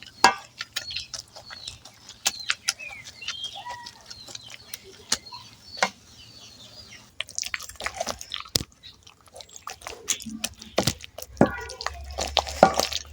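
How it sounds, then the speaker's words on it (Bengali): Boiled taro leaves are mashed with a wooden dal masher, giving irregular wet squelching and thudding strokes, with a chicken clucking nearby now and then. "এখন একটা ডাল ঘুটনি দিয়ে আমি এই ভর্তাটা করে নিচ্ছি"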